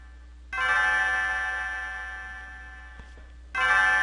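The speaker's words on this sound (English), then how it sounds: "Just have to be quiet for that bell." A bell rings out in the Chrono Trigger video game at the Millennial Fair, a sustained tonal chime that sounds, fades slowly, and strikes again loud and clear near the end.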